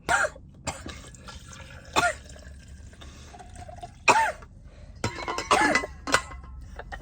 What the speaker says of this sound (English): I coughed on him.